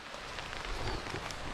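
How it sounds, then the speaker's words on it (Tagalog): Heavy rain pours steadily onto a vegetable garden where sweet potato vines and sponge gourd grow, a dense, continuous hiss of drops close by with no talking. "Lakas ho ng ulan."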